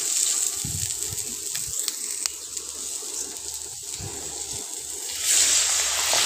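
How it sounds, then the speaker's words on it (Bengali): Water is poured into a pan of sautéed capsicum, carrot and tomato for macaroni pasta, giving a steady close gush and slosh that swells louder toward the end, with no talk. "সামান্য পরিমাণ জল দেব"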